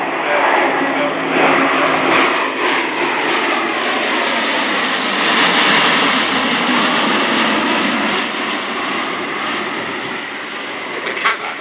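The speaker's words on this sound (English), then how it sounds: "We're seeing the Luftwaffe aircraft now" Airbus A400M Atlas military transport aircraft of the Luftwaffe making a flyby at RIAT 2024, a loud, sustained engine roar swelling and holding throughout, with voices talking over it.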